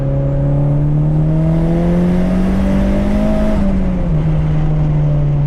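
A turbocharged Honda Civic with a B18B1 engine screams steadily at high revs on a dyno, its loud sustained tone climbing slightly before dropping as the throttle eases, with no talk over it.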